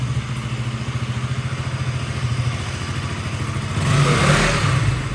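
A KTM Duke 200 motorcycle engine just back from service, idling with a steady near thrum and a rhythmic pulse, then rising into a louder rev near the end before easing off.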